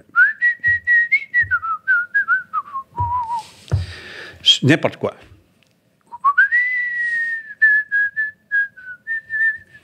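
Someone whistles a melodic tune, clear and close, broken briefly by a short spoken interjection and some rustling before the whistling resumes.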